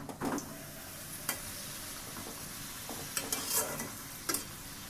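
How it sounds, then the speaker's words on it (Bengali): Puri and luchi deep-frying in hot oil, a steady soft sizzle with scattered brief clinks and bubbling bursts, fairly quiet and close, no talking. "একই সাথে পুরি এবং লুচি ভেজে নেওয়া যাচ্ছে কত ভালো"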